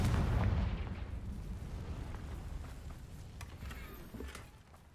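A fire spell, Confringo, bursts in the video game Hogwarts Legacy with a loud booming blast at the start, then a rumbling, crackling tail that fades over several seconds, heard alone.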